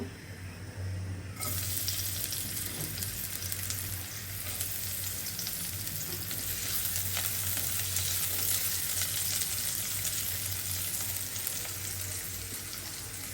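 Chopped onions frying in oil in a pan, a continuous close sizzle and crackle that swells after a quieter start and holds steady with faint stirring.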